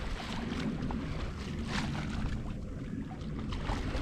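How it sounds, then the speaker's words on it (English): A sailboat under full sails moves at about four knots, with steady wind rush and water wash along the hull. The sound is continuous and close, and no one speaks. "We are sailing along under full sails at 4 knots."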